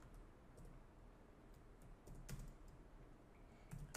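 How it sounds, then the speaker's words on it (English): Keys are typed on a computer keyboard while composing a goal card in Microsoft Word, a quiet, steady run of soft clicks with a few sharper taps, close and alone with no talking. "And then we begin to type."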